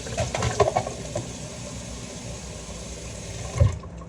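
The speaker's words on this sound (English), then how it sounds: "I'm gonna grab a couple of pieces of cilantro. I'm gonna wash it." Tap water running steadily over fresh cilantro in a kitchen sink, a continuous close splashing stream with small rises as the leaves are moved under it, ending with a short bump as the flow stops.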